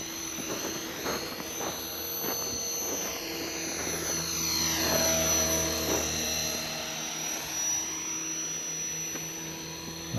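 Steady whine of a model airplane's engine flying overhead at an outdoor model flying field, continuous and fairly loud, with a sweeping pitch shift as it passes at moderate throttle.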